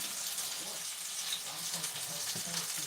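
Green tomato slices frying in hot oil, a dense, loud, continuous crackling sizzle heard up close for the whole stretch, with faint speech underneath.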